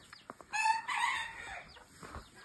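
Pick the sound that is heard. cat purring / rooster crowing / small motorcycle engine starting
rooster crowing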